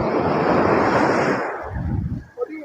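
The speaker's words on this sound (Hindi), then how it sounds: "देखिए चारों तरफ समुद्र ही समुद्र नजर आएगा।" Sea waves roll onto the shore at Umargaon, Gujarat, a loud continuous surf wash mixed with gusty wind buffeting the microphone, easing off near the end.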